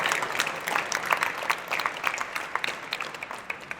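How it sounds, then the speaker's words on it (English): Applause from diners at an annual friendship dinner at the Pennsylvania State Capitol, a steady wash of many hands clapping that fades slightly toward the end. "Let's give them a round of applause for their hard work."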